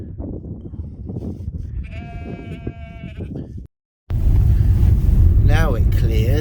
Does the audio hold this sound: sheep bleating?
yes